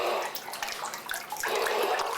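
Water sloshes and splashes continuously up close as a mother bathes her young daughter, a steady wash of pouring and rippling water with no talk.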